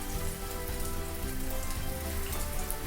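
Brown bread slices frying lightly in a pan give a steady, dense hiss and crackle of sizzling oil that runs without a break from start to finish, close and fairly loud, with no talking.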